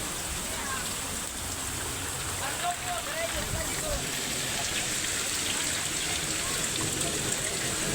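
Rain falls in a constant, even hiss all the way through, filling a well, with a brief faint voice somewhere beneath the downpour.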